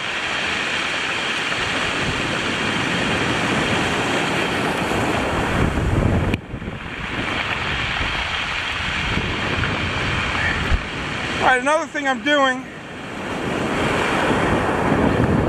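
Ocean waves roll in and break on a rocky shore during early-season bucktail fishing, a loud continuous roar with wind buffeting the microphone; someone speaks briefly near the end.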